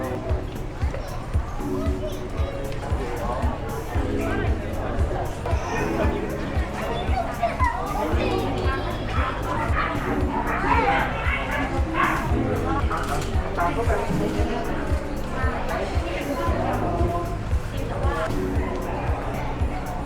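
Dogs at a pet shop stall in Chatuchak weekend market bark and yip almost nonstop under a busy crowd and children's voices.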